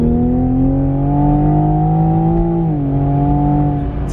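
Engine of a 2019 Toyota GR Supra heard from inside the cabin, a loud steady droning hum with strong tonal harmonics that dips briefly in pitch as if shifting, then holds, with no speech.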